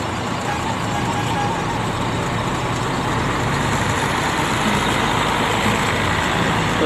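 Terang Fajar TK 09 bus on the Semarang–Purwodadi–Cepu route idling at a terminal, fitted with air suspension; a loud, steady diesel engine rumble with surrounding traffic noise throughout.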